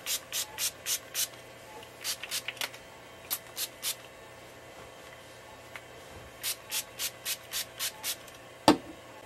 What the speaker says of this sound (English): we are going to spray her hair down and brush it out.